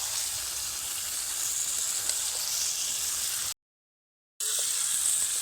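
Fried Sankar fish pieces sizzling in a spiced masala for fish curry, a steady close hiss and crackle that runs evenly, cuts out briefly, then resumes.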